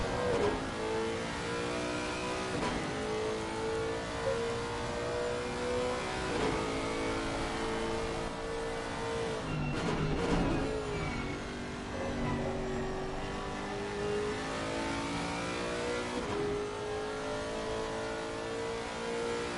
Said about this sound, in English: Second GT4 M4 on track.